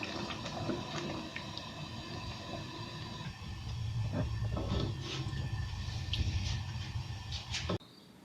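Water pours steadily into a pot of red kidney bean curry in a continuous, splashing stream, close and fairly loud, then stops abruptly near the end.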